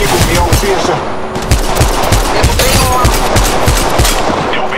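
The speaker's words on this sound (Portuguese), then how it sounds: "O inimigo me alveja." Rapid automatic gunfire from enemies in the mobile video game Apex Legends Mobile, loud, dense bursts of shots rattling steadily throughout under game ambience.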